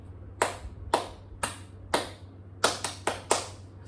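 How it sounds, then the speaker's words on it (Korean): One person's hands clap at an even pace, crisp and close: four evenly spaced claps, then a short pause before a quicker group of four. Each clap rings out alone against a faint hum. "지금 제가 박수를 치고 있죠?"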